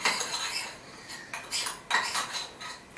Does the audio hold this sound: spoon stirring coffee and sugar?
yes